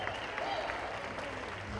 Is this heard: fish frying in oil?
no